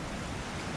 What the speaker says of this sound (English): listen to the sounds of the waves coming in